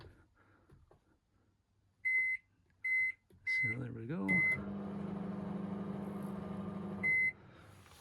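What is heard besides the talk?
microwave oven running and beeping on a Bayliner 245 boat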